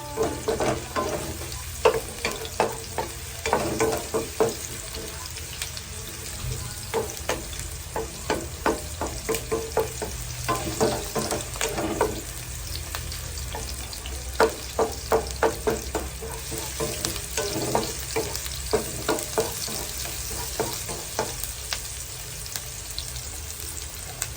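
Onions sauté in a hot pan for pork spare ribs, giving a steady close sizzle and frying hiss with repeated stirring scrapes and clinks throughout, and no talk.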